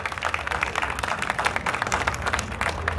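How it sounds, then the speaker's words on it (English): Crowd applause at a ribbon cutting for the opening of Fork to Fit Kitchen in Weslaco, Texas, with many hands clapping steadily and densely at moderate loudness for the whole stretch. "Let's give them a round of applause."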